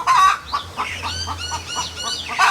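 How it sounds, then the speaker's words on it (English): A chicken clucks in a rapid series of short, loud, close calls, rising to a squawk at the start and end, with no speech. "chicken, I will end you and eat you."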